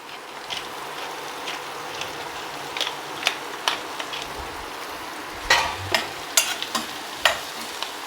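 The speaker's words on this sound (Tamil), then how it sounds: "இதை வந்து சிம்மில் போட்டுட்டு அப்பப்போ பெரட்டி கொடுத்துட்டு நல்லா ரோஸ்ட் பண்ணும்" Baby potatoes roasting in a masala-coated pan on low heat, a steady soft sizzle broken by repeated scraping stirs, louder clattery bursts near the end, close and with no talk.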